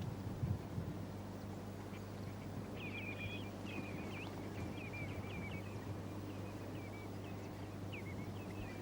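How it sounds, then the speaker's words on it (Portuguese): Flock of ducks quacking in the Tagus estuary in winter, a steady scatter of repeated quacks at moderate distance over a low constant hum of wind or a passing boat, with no voices. "São inúmeras as espécies de patos que podem ser avistados no estuário durante os meses de inverno"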